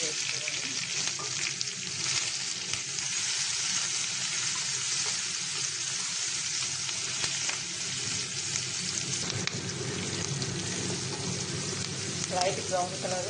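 Chopped onions and green chillies fry in a pan for pumpkin curry, giving a continuous soft sizzle with faint bubbling, steady and fairly quiet throughout.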